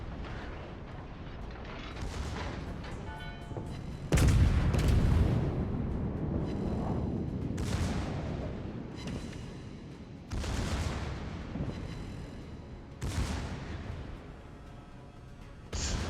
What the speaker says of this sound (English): Looks like the Amagi was shooting HE at us